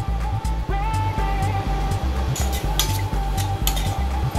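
A utensil stirs cumin, coriander, Kashmiri red chili and turmeric powders in a pan for prawn and potato curry, with quick regular scraping strokes over a faint sizzle and no talk.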